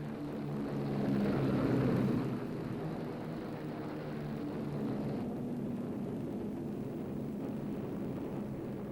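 A B-17 Flying Fortress bomber lands bumpily after a mission, heard as a distant, muffled rumble of engines that swells briefly and then settles into a steady drone.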